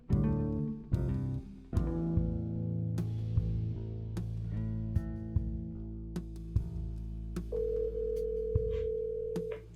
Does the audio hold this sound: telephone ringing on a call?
yes